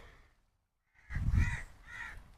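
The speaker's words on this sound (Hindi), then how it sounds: "कौवे घोंसले वगैरह होंगे ना इनके।" Crows in a guava orchard give a loud, near caw after a moment of near silence, then a second, softer caw follows.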